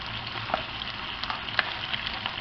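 Seafood browning in a frying pan for a Spanish seafood paella, a steady soft sizzle of oil with a few small pops and crackles, close and moderately quiet, no voices.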